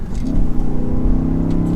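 A close, loud 2023 BMW XM SUV exhaust rumbling as the engine, warming up, revs slightly and holds a steady drone.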